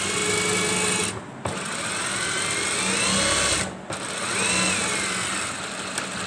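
Sewing machine stitching a men's shalwar, running steadily and close with a whirring mechanical drone, broken by two brief pauses before resuming, no talk over it.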